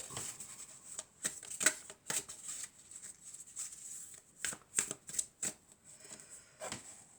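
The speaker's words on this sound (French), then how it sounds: "Alors, on va prendre quelques cartes." Tarot cards being shuffled by hand, soft repeated riffling and flicking rustles, faint and close, with no talking.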